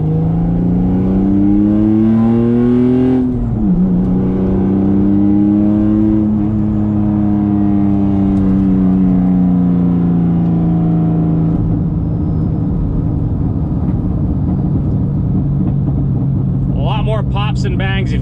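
A Porsche 996 with a Bayside Fabrication race exhaust holds a loud, raspy, sustained engine note that climbs, dips sharply and then settles, with a person talking over it and a brief crackle near the end.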